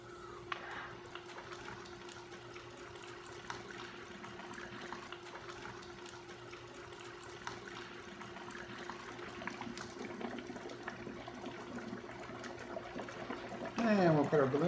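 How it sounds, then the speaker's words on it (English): A steady stream of water pours into a container, a soft continuous gush that holds for several seconds before a louder burst at the end. "We're going to add some water to it."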